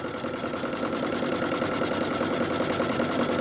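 A sewing machine stitching rope and yarn into a coiled bowl, running in a steady continuous mechanical whir with fast needle chatter, close and even throughout without pause.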